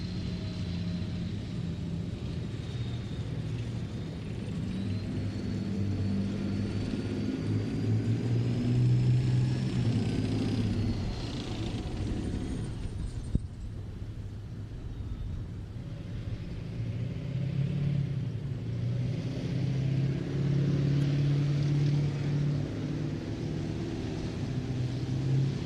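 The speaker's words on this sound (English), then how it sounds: "So we've now got the Challenger 2 and the Warrior getting into position" A Challenger 2 tank and a Warrior armoured vehicle move into position at a tank display, giving a continuous deep engine rumble that swells and eases, heard from a distance with no talk.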